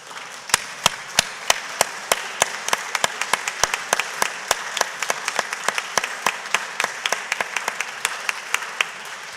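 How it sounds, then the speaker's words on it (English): Cleveland City Council members stand and clap for a departing city hall staffer, a thin, steady patter of separate sharp hand claps from a handful of people continuing for about nine seconds. "ask if all council can just stand and give her a round of applause for her service"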